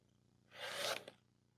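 A rotary cutter slicing down the middle of quilt fabric for a mini exploding heart quilt, heard as one close, steady rasping cut lasting about half a second, fading out with a small tap at the end.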